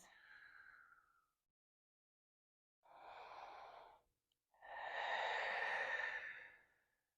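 Slow yoga breaths, close and soft: one exhale, a pause, then an inhale and a longer, fuller exhale in a quiet room.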